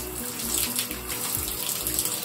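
Shower water runs steadily with a continuous hissing splash while a child's hair is rinsed, with faint low splatters and nothing else over it.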